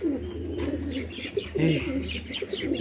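A male pigeon coos close by in repeated low, throaty phrases, with a faint chirp or two over a steady background hum.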